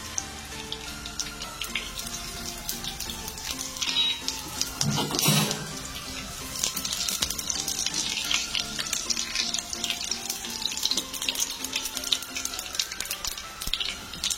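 Whole dry red chili, two cardamom pods, bay leaf, a cinnamon stick and cumin seeds fry in hot oil for a Bengali bhetki fish curry. The sizzle is dense and crackling, with a louder, busier burst midway, and no one talks.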